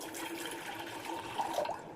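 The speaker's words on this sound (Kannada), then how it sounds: "ಆ ಕುಡಿಯೋ ನೀರನ್ನ ಇಲ್ಲಿಗೆ ಹಾಕ್ತಾ ಇದೀನಿ" Drinking water poured from a glass into a cooking pan for Maggi noodles, a steady close splashing trickle that runs for about two seconds and swells slightly near the end.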